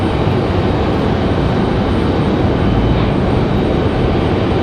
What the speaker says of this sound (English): It's Air Canada headed back to Montreal.